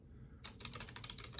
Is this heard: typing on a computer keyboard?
yes